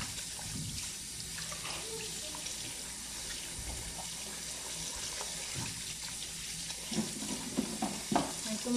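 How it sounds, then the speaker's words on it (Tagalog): Fruit and vegetables rinsed under a running kitchen tap, a steady wash of flowing water with splashing and handling noises that grow busier and louder toward the end, with no talking. "Hugasan lang natin siya, guys, mabuti."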